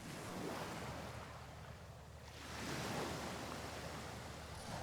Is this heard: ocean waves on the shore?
yes